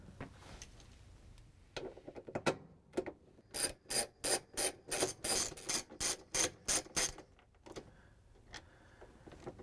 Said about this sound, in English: We're going to use a 3/8 inch socket with the ratchet and the extension to take out the bolts.